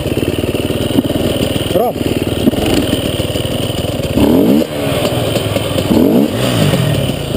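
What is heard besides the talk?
motorcycle engine revving off-road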